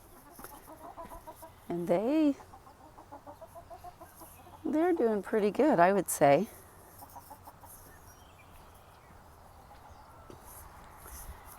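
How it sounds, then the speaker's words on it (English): Chickens on a farm, let out for the morning, give two short bursts of clucking, the second longer, at moderate loudness, with a person's voice speaking between them over a quiet outdoor background. "I've already let the chickens out,"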